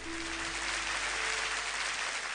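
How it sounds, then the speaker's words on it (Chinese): Studio audience applause for two errenzhuan folk opera performers on a televised competition stage, a continuous wash of clapping, fairly soft and even throughout the short stretch with a faint steady tone beneath it. "掌声送给他们。"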